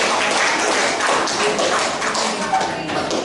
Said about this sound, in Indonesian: Kita kasih aplaus kelompok 1